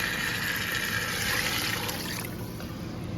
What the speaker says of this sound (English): I'm gonna add the water in now.